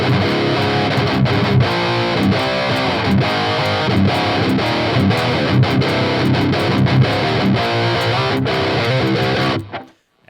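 Heavy distorted modern metal guitar, miked with two 57 dynamic mics, one of them off-axis, chugs loud and dense in a continuous riff before cutting off abruptly near the end.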